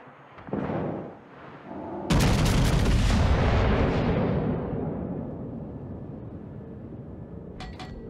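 Heavy battleship gun salvo from the Montana in a World of Warships naval battle: a loud, sudden booming blast that rolls on and slowly decays, preceded by quieter rumbles, with a faint clatter near the end.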